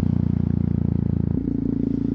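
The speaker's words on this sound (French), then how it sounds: "tu relâches l'embrayage et tu redonnes un petit coup de gaz" Motorcycle engine idling and given a gentle bit of throttle as the clutch is released during a riding lesson, a steady close putter with a slight shift in pitch partway through.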